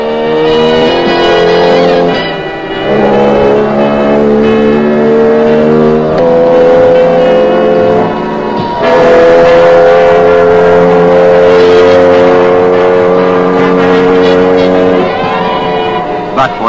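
A Jawa motorcycle engine running during a factory running-in test, loud and steady, with revving that dips and rises in pitch, under music-like tonal layers.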